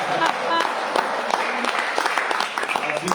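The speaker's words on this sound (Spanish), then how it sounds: "Un aplauso, por favor." Church congregation applauding a decorated anniversary cake, a steady wash of clapping with scattered sharper claps and some voices mixed in, fairly close and continuous throughout.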